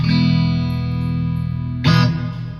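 Electric guitar through a Crate FlexWave 120/212 amplifier with modulation off and only reverb, a sustained distorted chord ringing and slowly decaying, then a fresh strum that fades out.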